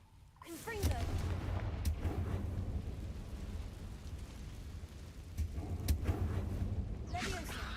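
Confringo spell blasts go off in the video game Hogwarts Legacy, heard as booming explosions over a rumbling, rain-like game background, with several sharp bursts spaced apart.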